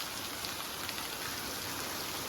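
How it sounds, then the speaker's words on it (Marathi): Heavy monsoon rain falls in Goa during the Ganesh Chaturthi festival, a dense and steady hiss of drops with no break and no voices, moderately loud. "पेडण्या आमगेर सारको मुसळधार पाऊस म्हणतात तो."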